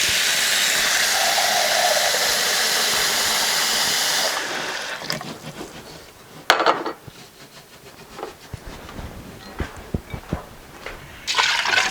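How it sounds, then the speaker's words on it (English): Broth and water are poured into a hot soup pot, a loud rushing splash of liquid for about four seconds, followed by quieter clinks, stirring scrapes and small knocks of the pot and utensils. "it's time to add our liquid. It calls for 2 cups of broth and then 2 cups of water."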